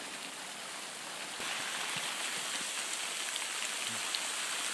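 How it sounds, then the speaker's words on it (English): Hail pelts a canvas tent in a dense, steady patter like heavy rain, with a few sharper hits and a slight rise in intensity partway through. "See how big these hails get."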